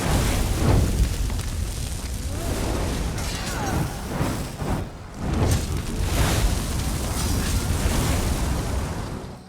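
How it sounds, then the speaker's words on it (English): Siege weapons burning in The Elder Scrolls Online, with a sustained loud roaring rumble and crackling fire punctuated by several dull booming bursts, continuous throughout. "Holgun asks you to burn their siege weapons"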